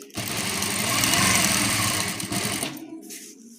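A sewing machine runs steadily for about two and a half seconds while stitching along a seam on dress fabric, then stops abruptly, leaving near silence.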